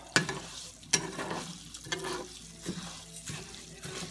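Rice frying in oil, sizzling and bubbling steadily in a pan, with a few sharp clinks of a utensil against the pan near the start.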